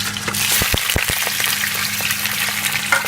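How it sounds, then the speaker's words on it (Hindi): Chicken pieces hit hot oil in a karahi and fry with a steady, loud sizzle, broken early on by a few sharp clatters as the meat is dropped and stirred in. "अब इस स्टेज पे हम इसमें चिकन ऐड कर देंगे"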